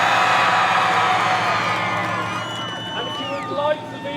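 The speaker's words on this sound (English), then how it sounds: "Cheer as loud as you possibly can after 3." Crowd at the Beaulieu Supercar Weekend car show cheering for a V8 Mustang, a loud sustained roar of voices and whoops that gradually fades over a few seconds.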